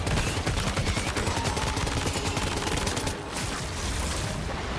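Sustained gunfire in the video game Death Stranding 2 as a fight with a BT boss rages, dense rapid bursts like a machine gun filling the whole stretch, loud and continuous with a short dip near the end.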